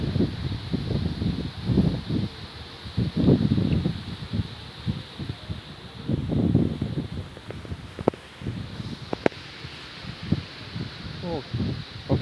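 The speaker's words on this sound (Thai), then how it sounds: "โอ้ลมขนาดครับพี่น้อง" Strong gusty wind buffets the microphone in low, rumbling bursts, with a voice speaking now and then underneath.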